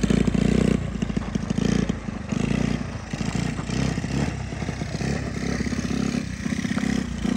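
A 1985 Honda ATC 110 three-wheeler's small single-cylinder engine runs close by with a loud, rough, rapid thump, surging as the throttle is blipped, with rattling mechanical clatter.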